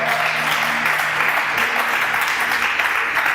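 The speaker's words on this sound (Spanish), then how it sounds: "Dele un aplauso a la soltera." A church congregation applauds during a sermon, a continuous wash of clapping heard close and loud from start to finish.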